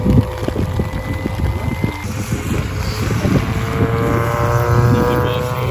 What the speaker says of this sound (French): C'est marrant quand le son il change, tu vois, quand t'accélères.